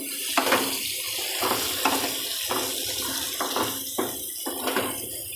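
Water splashed over sweet potato curry in a pan gives a steady hissing, watery wash broken by repeated sharper splashes and bursts, fairly close and loud, with no talking.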